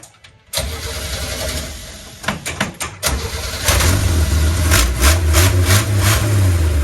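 A 1967 Chevy G10 van with a three-on-the-tree column shifter cranks briefly, then catches and fires up into a loud, steady, rumbling idle that holds close and strong to the end, with no talking.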